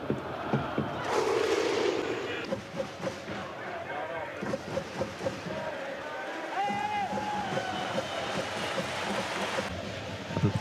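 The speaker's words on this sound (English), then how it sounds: "Et le premier clapping islandais" Icelandic football fans at a Reykjavik stadium do their Viking thunder clap, a crowd's evenly spaced loud booming claps with shouted chants, ringing out over a large stadium crowd while a commentator speaks.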